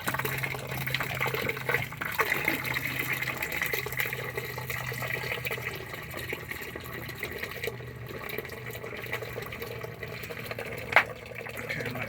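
Water gushing and splashing from an RV gray tank drain with heavy sediment during a blockage clearing, a steady continuous outdoor flow with a brief louder splash near the end.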